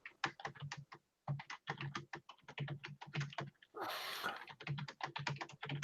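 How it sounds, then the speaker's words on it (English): Fingers type rapidly on a computer keyboard, a quiet close run of crisp key clicks in bursts with short pauses and a louder rustle midway. "I'm not quite sure why John is typing, but John is typing"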